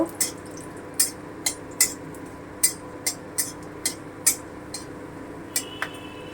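A metal utensil stirs bay leaves and cinnamon in hot oil in a pan, giving a run of sharp, regularly spaced clinks and taps against the pan over a faint background.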